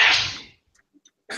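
One sharp, explosive sneeze bursts out close by at the start and fades quickly into near-silence, followed by faint small noises.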